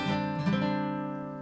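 A single acoustic guitar chord from Dear Evan Hansen strummed once and left to ring, fading steadily over a second or so.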